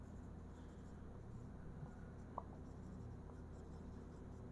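A marker or chalk moves across a board in a faint, continuous scratchy stroke over a low background hum, with one small tap partway through and no talk.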